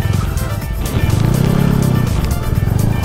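A dirt motorcycle revs while riding down a sandy hill at the red-earth mountain, its engine loud and close with rising and falling throttle and wind buffeting.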